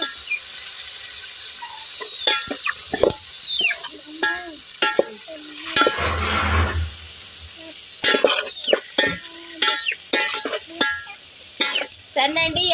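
Fish frying in a pan with onion and green chillies, a steady sizzle broken by scraping stirs and clinks of a utensil, with a louder burst of hiss midway, close and moderately loud.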